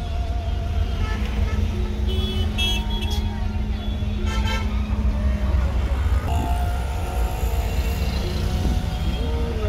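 Car horns honking in a crowded traffic jam on a busy road: several toots and longer blasts of varying pitch overlap above a steady rumble of engines and road noise, near and loud throughout.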